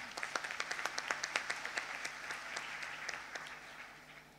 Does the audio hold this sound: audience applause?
yes